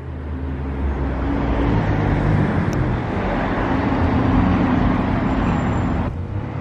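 Supercars including a Ferrari 812 GTS, a Can-Am and a McLaren P1 roll along a city street, a continuous loud traffic rumble with engines droning past rather than distinct revving.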